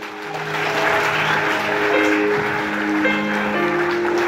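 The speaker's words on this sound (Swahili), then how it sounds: "Pigia Yesu makofi." A church congregation clapping together in sustained, dense applause for several seconds, with a faint hum of voices beneath.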